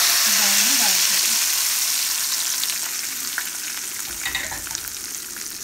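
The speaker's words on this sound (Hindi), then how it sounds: "ये हमारा बिल्कुल तैयार है तड़का। अब हम इसको इसमें दाल में डाल देंगे" Hot tadka tempering poured into red lentil dal, a loud burst of sizzling and frying that gradually settles into a softer crackle, with some stirring.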